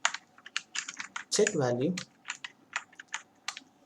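Clicky keystrokes from coding on a computer keyboard tap in irregular bursts throughout, close and fairly clear, with a short spoken phrase breaking in midway.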